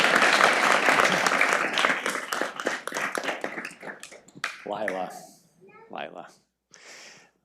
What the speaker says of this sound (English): Let's give Grace a big round of applause